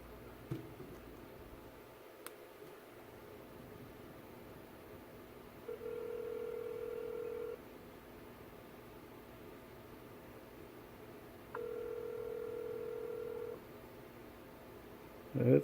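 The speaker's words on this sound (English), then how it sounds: "It's dialing." An LEM4 Pro Android smartwatch places a phone call and plays a ringback tone: two steady electronic tone bursts, each about two seconds long, several seconds apart, over a faint background hum.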